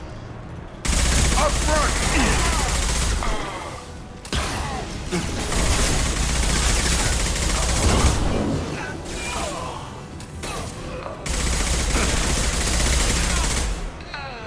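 Sustained automatic gunfire and bursts of shooting in the sci-fi shooter game Mass Effect 2, loud and dense for most of the stretch with brief lulls, while voices shout over the battle.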